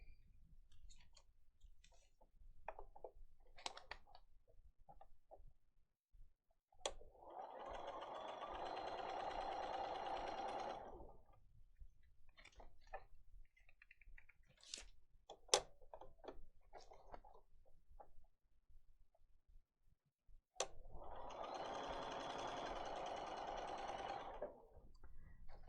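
A sewing machine stitches pieces of fabric in two sustained whirring runs of about four seconds each, close and steady, separated by quieter handling clicks and taps.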